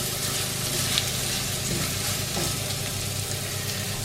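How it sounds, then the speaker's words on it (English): Butter sizzles and melts in a skillet ahead of cooking wild ramps and mushrooms, a steady, fairly loud crackling hiss that runs evenly without pause. "we're going to get our butter melted down in the skillet real good"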